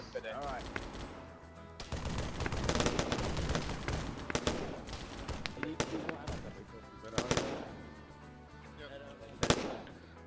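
Rocket artillery and small-arms fire in a military video game, a crackling barrage of rapid overlapping bursts and sharp reports, with people talking over it.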